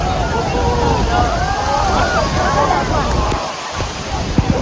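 Choppy water splashes and surges around the listener in a loud, continuous wash with gusts of wind noise, while several people talk and exclaim over it.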